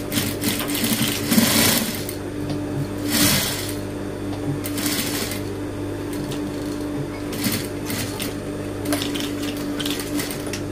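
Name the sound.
sewing machine running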